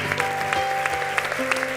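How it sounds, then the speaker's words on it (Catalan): A small audience at a Solsona carnival reading-tour event claps briefly, a light scattered patter of hands lasting under two seconds, fairly quiet and slightly uneven. "Un aplaudiment per això."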